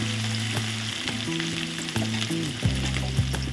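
Onions and green chillies frying in a pan for egg rice, a dense continuous sizzle with stirring scrapes and a low hum running underneath throughout.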